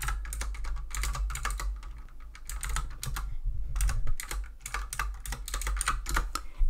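Close-up typing on a computer keyboard, fast irregular bursts of key clicks with short pauses between them, steady and moderately quiet over a low background hum.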